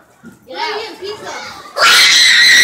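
Children at a YMCA chatter and shout, then break into a loud, sustained high-pitched scream that lasts to the end, close and dominant.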